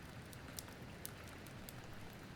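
Rain from a passing storm falls steadily in a forest, a soft, even hiss with scattered faint drops, gentle and continuous with no voices.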